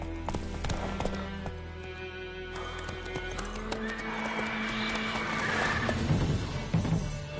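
Roach, a horse in the video game The Witcher 3, neighs and trots, with clip-clop hooves over a steady game soundscape and a whinny toward the end.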